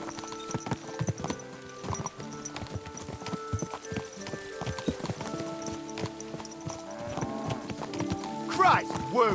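Hooves clip-clop steadily on a hard surface amid Kingdom Come: Deliverance II game ambience, with a horse neighing near the end and voices talking over it.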